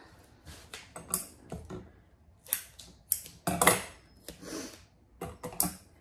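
Scissors snip repeatedly through duct tape while trimming the corners of a dog ear posting wrap, giving sharp, close, irregular cuts and crinkles separated by short pauses.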